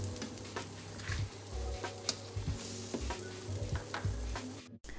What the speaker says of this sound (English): these fritters are gonna cook for about 3 to 4 minutes per side